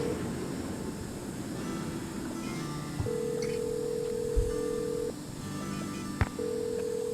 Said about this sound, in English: let's call the operator, see what happens